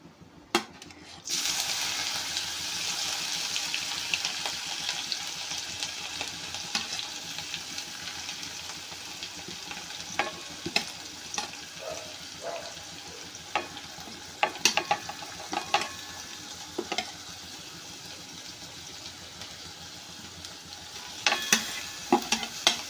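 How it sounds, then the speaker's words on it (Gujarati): Whole dry spices (cloves, cinnamon, bay leaf and cardamom) sizzle in a hot pan while being stirred, a continuous crackle broken by sharp scrapes and knocks of a utensil against the pan. "અને તેની સાથે આ સૂકો મસાલો લવિંગ તજ તમાલપત્ર અને એલચી એડ કરીશું"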